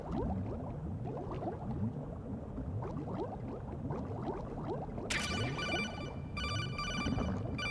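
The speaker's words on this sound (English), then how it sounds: "I'm gonna answer a phone call?" A phone rings in Metal Gear Solid 2, an electronic ringtone entering partway through over bubbling, churning water, with a short pause before it resumes.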